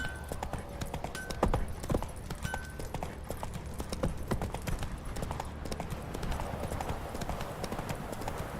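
Clip-clop of Roach, Geralt's horse in The Witcher 3, trotting steadily in a game scene, with the hooves beating in an even rhythm under game music and ambience, with no talking.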